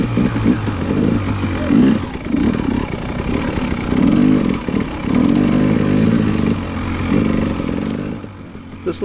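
Two-stroke dirt bikes ridden in cold, dense air on a trail, a loud raspy engine drone that surges and eases with throttle, heavy wind buffeting over it.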